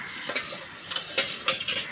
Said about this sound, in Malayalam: നല്ല തിളച്ച വെള്ളമിട്ട് കഴുകും.